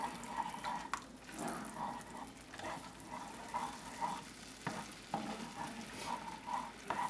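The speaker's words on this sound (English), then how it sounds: "let's scramble these eggs up" A vegan egg being scrambled in a frying pan with a spatula, steady sizzling under repeated scraping and stirring strokes against the pan, close and moderately loud with no talking.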